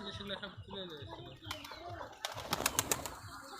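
Restless pet pigeons at a home loft flutter and call, with soft coos and a burst of wing-flapping and scuffling toward the end, heard close under continuous conversation.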